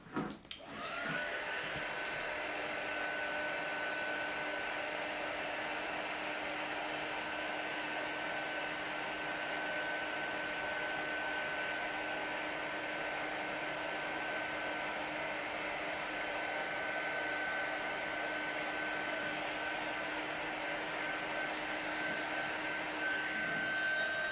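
A heat tool melts embossing powder on a greeting card, blowing with a steady, loud whirring hiss that runs continuously and alone for over twenty seconds after a brief click at the start.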